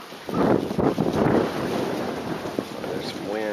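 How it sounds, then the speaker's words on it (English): Outdoor wind buffeting the microphone beside a Japanese hornet trap near a beehive, a steady rushing roar that swells and then eases over a few seconds. "There's some wind."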